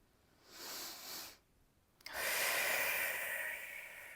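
During a yoga session, a person takes a slow audible breath in, pauses, then lets out a longer, louder exhale, close and breathy.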